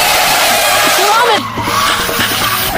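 Tires of a car with failed brakes screech loudly in a long skid, then a rougher mechanical scraping follows after a brief dip, all close and dominant.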